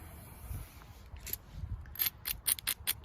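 A jasper stone edge ground by hand while flintknapping outdoors, a run of close, rapid scraping strokes that grow sharper and more rhythmic toward the end, with no voices.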